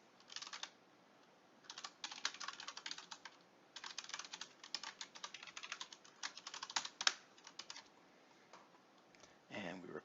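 Computer keyboard typing in bursts of quick, close clicks, with short pauses between runs and a brief louder clatter at the end.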